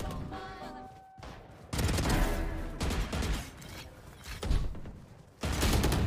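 Valorant gunfire in a competitive match: repeated loud bursts of automatic shots broken by brief pauses, close and harsh, with mechanical clicks between bursts.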